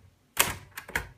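A few sharp keystrikes on a Hermes Media 3 manual typewriter, close and crisp, coming after a short silence.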